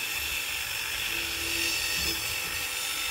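A tiny 0.5 mm drill bit bores a hole in a model kit part, giving a steady high-pitched motor whine that holds constant throughout at moderate, close level, with no talking.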